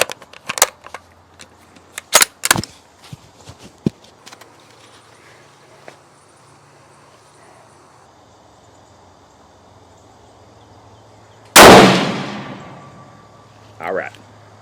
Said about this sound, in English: I'm gonna shoot 5 shots down range